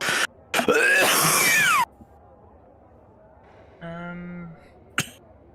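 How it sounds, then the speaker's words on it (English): A person gives a couple of harsh, loud, close coughing bursts that sound almost like sneezes, followed by quiet, then a brief tonal whine and a short sharp click. "Just let me know when you can hear my coughing."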